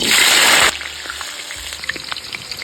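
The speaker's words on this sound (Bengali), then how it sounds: "কড়াই গরম হয়ে গেছে, এবার আলু ভাজার জন্য সরষের তেল দিয়ে দেবো।" Mustard oil for frying potatoes hisses loudly in a hot kadai in one sharp, close burst, then drops to a faint, low crackle.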